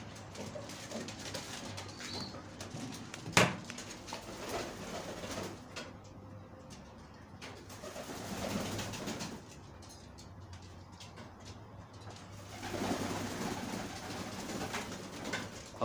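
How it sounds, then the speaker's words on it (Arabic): A flock of pigeons coo softly and repeatedly while drinking water, with occasional louder calls and a low background hum; no one speaks. "هنشوف الحمام هيشرب دلوقتي"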